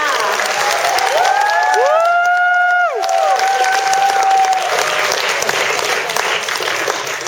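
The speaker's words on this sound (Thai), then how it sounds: "ขอเสียงปรบมือให้กับมิสเตอร์Mrazด้วยค่ะ" A fan club audience in Thailand applauds Jason Mraz with loud, continuous clapping mixed with high cheers and screams from the crowd.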